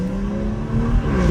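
A modified BMW 440i accelerating hard, its engine note droning steadily and rising slightly in pitch, heard loud and close from inside the car with no talking.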